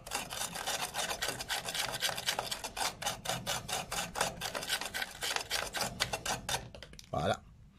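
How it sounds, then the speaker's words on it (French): A small brush scrubs briskly over trailer light contacts, rapid rhythmic scratchy strokes close up that stop abruptly, followed by a faint thump. "Je passe quand même un petit coup de brosse."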